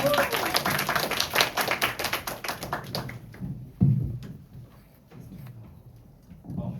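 Scattered clapping from a student event audience welcoming a speaker, fairly loud for about three seconds, then dying out into a few faint claps and low room noise.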